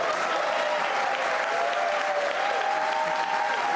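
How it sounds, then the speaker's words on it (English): Sustained applause fills a cabinet swearing-in ceremony for Canada's new ministers, dense and steady from start to finish with a faint crowd murmur beneath. "All right, a big round of applause there."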